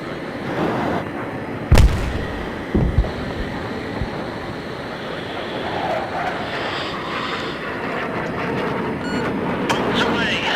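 Bombs dropped from an aircraft strike targets in the Battlefield 3 video game, two sharp booming blasts near the start rising over a steady roar of jet engine and rumbling battle noise.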